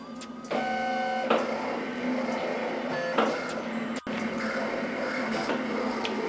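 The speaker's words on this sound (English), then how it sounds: "There we have the vinyl cutter doing this thing, cutting the design out." A vinyl cutter slices a design from a 12-inch piece of vinyl, giving a steady mechanical whir with short stepping motor tones and brief pauses as the blade changes direction, close and moderately quiet.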